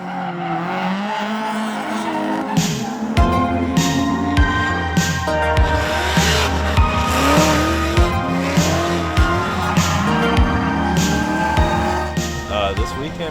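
Drift cars slide around a track in hot weather, engines revving and tires squealing in long, wavering screeches with repeated bangs and bursts, loud and continuous with cars passing close.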